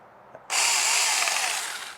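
A TOMYVIC 6-inch cordless electric mini chainsaw motor whirs up abruptly and runs at a steady high-pitched buzz, loud and close, easing slightly toward the end.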